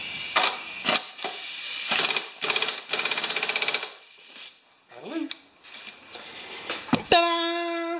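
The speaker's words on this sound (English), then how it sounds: "I'm just going to give her a little bit of a zing with the pneumatic." Pneumatic impact wrench working the blade bolt on a Honda HR194 lawn mower, firing in several short rattling bursts, close and loud, with gaps between, followed by a sharp metallic clink and a ringing tone at the end.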